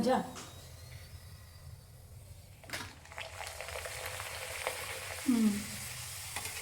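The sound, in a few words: ragi pappad frying in oil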